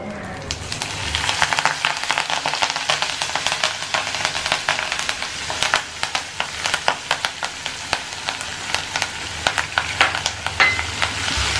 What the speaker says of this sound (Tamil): கடுகு நல்லா பொரிஞ்சோடனே ஆஃப் பண்ணிவிட்டு நீங்கள் கருவேப்பிலை சேர்த்துக்கோங்க